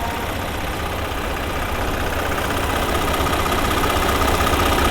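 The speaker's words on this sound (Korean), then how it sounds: "엔진 소리 일정하네요" A Genesis EQ900 3.3 T-GDI sedan's engine idles with a steady, even rumble and faint rhythmic ticking, continuous and close, with no voices.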